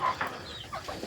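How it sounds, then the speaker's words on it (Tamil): Newly hatched country chicken chicks in a cage give faint, scattered peeps and chirps against a quiet background. "இதுதாங்க அந்த கோழி குஞ்சுங்க பொரிச்சது"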